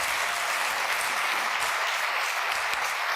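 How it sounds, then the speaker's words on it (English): An audience at a leadership exchange session claps steadily for about three seconds in an even, sustained wash of applause, with no talking over it. "let's give her a round of applause"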